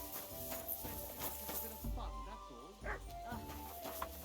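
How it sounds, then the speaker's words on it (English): Dog in the game Kingdom Come: Deliverance II giving short yips and whimpering whines, close and fairly loud, mixed with game ambience and someone talking over it. "Aye, aye, you silly doggy."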